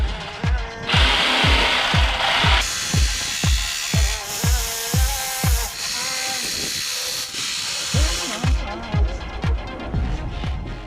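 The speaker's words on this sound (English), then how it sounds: "the jigsaw will definitely run through there, not an issue" Jigsaw blade chattering rapidly through a carbon fibre sheet, close and loud, cutting in bursts with short pauses and a hissing buzz, with no voices.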